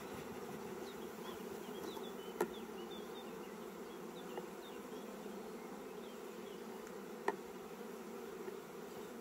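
A dense, steady hum of many honeybees buzzing close together at a hive, continuous throughout with a couple of faint clicks.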